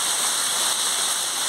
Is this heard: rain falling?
yes